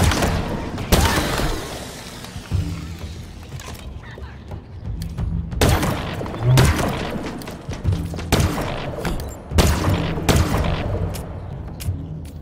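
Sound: gunfire in the video game Halo Infinite

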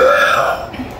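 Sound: loud burp

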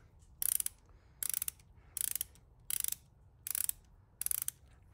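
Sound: Mac XRC5F ratchet clicking

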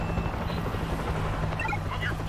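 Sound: helicopter in video game World War Z

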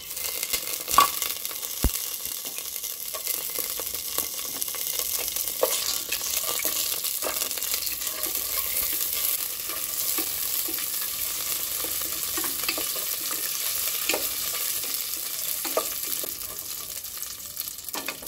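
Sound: cashews and raisins frying in a pan

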